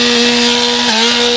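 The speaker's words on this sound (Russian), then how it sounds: "Виртуозно справляться с бензопилой вальщика леса Бенеконского лесничества Андрея Сомова" A logger's chainsaw roars at a tree-felling competition, loud and close, with a sustained high engine whine that dips briefly in pitch under load as it cuts, no voices.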